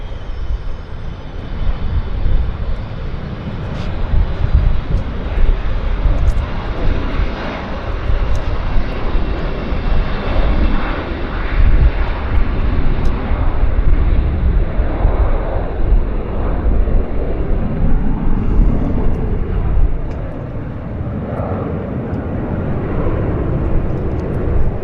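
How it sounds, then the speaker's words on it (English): A Boeing 787 heavy jet taxiing out at Vancouver airport, a loud continuous engine roar and rumble that holds steady for the whole stretch before easing slightly at the end. "We've got another heavy taxiing out. We got another 787, guys."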